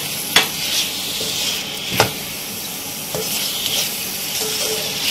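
Bitter gourd stirred into minced meat in a hot pan for karela keema: a steady close sizzle and hiss with a few sharp clacks of a spoon against the pan, no voices.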